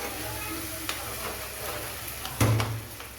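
Taro greens with spices are stirred in a hot pan, giving a steady sizzle with a few soft scraping clunks, close and moderately quiet.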